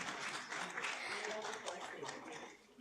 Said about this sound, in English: Please welcome all the chairs and the panelists with a huge round of applause.